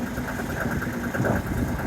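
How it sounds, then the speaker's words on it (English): A sailboat's engine idling at sea, a steady low throbbing hum with a continuous droning tone, fairly close and constant throughout. "Okay, just idling the engine now."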